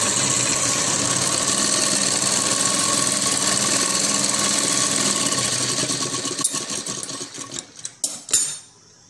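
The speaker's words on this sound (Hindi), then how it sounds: "अब इस तरह हम फिर से सिलाई लगा लेंगे।" A sewing machine stitches a designer fabric sleeve with a fast, steady mechanical whir and rattle that runs continuously, then slows and stops in uneven bursts near the end.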